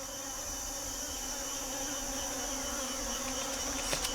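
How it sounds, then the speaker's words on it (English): Bees swarm and buzz around a wild honeycomb, a dense, steady drone of many insects close by that holds evenly throughout, with one sharper buzz near the end. "But the bees interfere"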